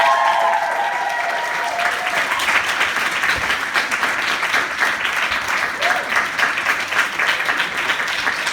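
An audience at a comedy tribute event breaks into sustained, dense applause for a woman named Lindsey, steady clapping filling the room with faint crowd noise beneath.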